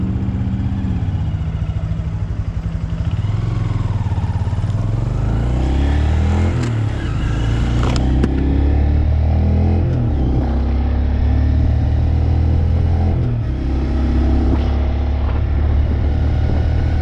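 A Honda Grom motorcycle engine, warmed up and ridden below full throttle, hums steadily and close with rising and falling pitch as the small engine revs, plus some road and wind noise and no speech.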